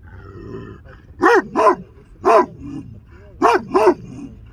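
A dog barks five times in two quick pairs and a single bark, loud and close, with a faint low hum underneath.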